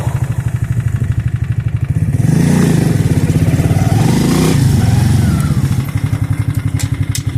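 A Spark SP125C-2AMW motorcycle engine idles with a fast, even putter, then revs up for a couple of seconds before settling back to idle; loud and close, with no talk.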